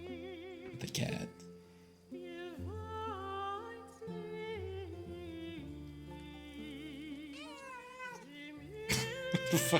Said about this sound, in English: The cat.